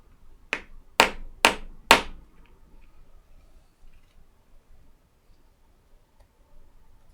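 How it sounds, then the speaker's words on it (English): A small hammer taps pegs into holes in four sharp, distinct strikes close by, the last three louder and in quick succession, followed by quiet room noise. "Take our little hammer."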